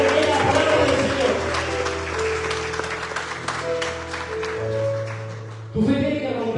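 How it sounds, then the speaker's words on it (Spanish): A church congregation at a pastor's Spanish-language service applauds steadily, with dense clapping under sustained music chords and a voice speaking over it. "me dan un fuerte aplauso al Señor a la palabra del Señor"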